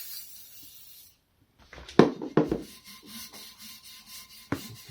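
A Scotch-Brite pad rubs against the inside of a wheel rim in a series of short, rhythmic scrubbing strokes, close and fairly quiet, after a brief silent pause.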